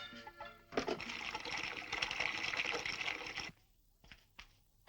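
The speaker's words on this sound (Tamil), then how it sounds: "மேல் ரூம்ல இருந்து கீழ் ரூமுக்கு மழையா பொழியுது" Water pouring down through a ceiling from an upstairs room into the room below, heard as a loud rushing splash for about three seconds that stops abruptly, followed by a few faint drips and knocks.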